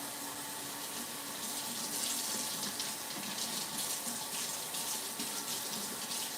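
Tap water runs steadily into a sink as salmon is rinsed, a continuous close hiss and splash with no speech.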